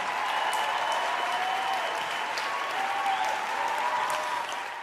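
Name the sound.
applause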